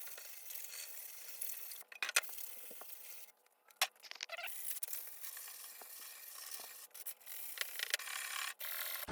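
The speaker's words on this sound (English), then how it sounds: "we're going to go ahead and sand everything so she doesn't cut herself on any of this" Wooden panels and corners of a dog's whelping box are sanded smooth by hand, making a steady close rasping scrape with brief pauses and shifts in pressure, moderately quiet and without speech.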